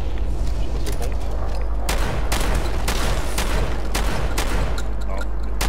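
Repeated scoped rifle shots at scorpion rats in Fallout 4, a dense series of loud sharp reports layered over a constant low in-game rumble, with a voice talking underneath.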